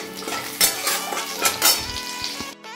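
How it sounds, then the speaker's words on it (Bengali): Potato and pointed gourd fry in a little oil with nigella seeds, sizzling steadily with several scraping stirs and utensil clinks against the pan, up close, then stopping abruptly. "আলু আর পটলটাকে সামান্য তেলের মধ্যে কালো জিরা দিয়ে আগে ভেজে নিচ্ছি"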